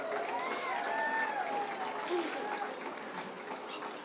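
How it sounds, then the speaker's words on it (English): An audience at an outdoor holiday tree lighting applauds, a steady wash of clapping that fades slightly toward the end, with faint voices underneath. "Big round of applause for him."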